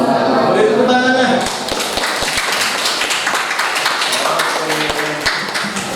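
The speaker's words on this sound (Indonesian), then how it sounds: "Beri tepuk tangannya." An audience claps for a presenter at a teacher-training session, a burst of scattered hand claps that starts after a speaker's voice and stays moderately loud and uneven.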